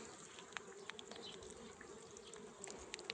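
A faint, close hum of many honeybees buzzing around a feeder, with individual insects zipping past in short whines over a steady drone.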